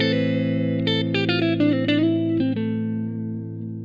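Electric guitar plays a quick run of picked notes in a natural minor phrase, then rises through an arpeggio and rings out on a sustained chord, clean and close with light reverb, no voices.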